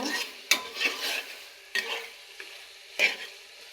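Chicken bones sautéed in a pan on a home stove: a spatula scrapes and stirs in several sharp strokes over a soft steady sizzle, close and clear with no talking.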